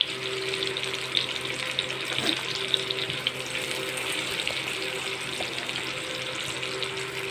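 Onions sizzle in hot oil in a pan for Hyderabadi dum biryani, a steady dense hiss and crackle that holds evenly throughout with no talk.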